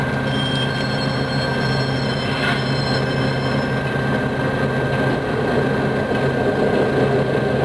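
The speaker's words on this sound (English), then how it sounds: "here's the other train coming by." A train in Microsoft Train Simulator rumbles past steadily with a continuous roar and faint high metallic squeal, loud and close, no voices.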